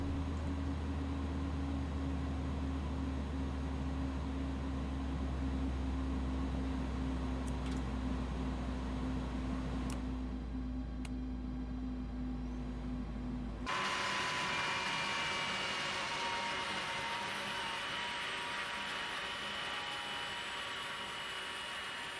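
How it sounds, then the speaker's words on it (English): An A300F auxiliary power unit in X-Plane 11 drones steadily with a low hum, then the tone cuts away abruptly partway through, leaving a brighter, broadband aircraft whine that continues alone without talk. "I'm gonna connect the ground power and shut the APU off so we can hear the spool down better."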